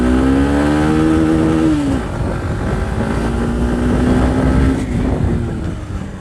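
A Hero Xtreme 160R motorcycle engine revs up in a rising whine, drops sharply at a gear change, then pulls again with a steady climbing drone, loud and close throughout.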